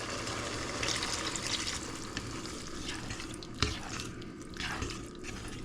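Half a cup of water is poured into a pan, giving a faint, continuous splashing trickle with a few brief drips, fairly quiet with no voices.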